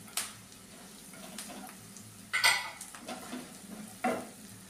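A spoon stirs chilli powder into a murmura mixture in a pan, making several soft, separate scraping strokes with a faint sizzle between them.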